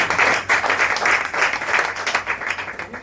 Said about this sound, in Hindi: ऐसे बोलो ना, जोरदार तालियां।